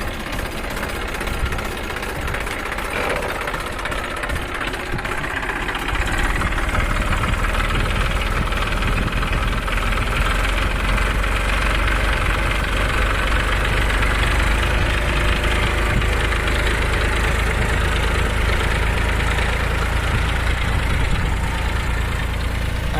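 A tractor engine runs steadily throughout during sowing in a farm field after rain, with a double-opener seed drill for fertilizer and seed; a continuous low mechanical drone, loud and unbroken, with no talk.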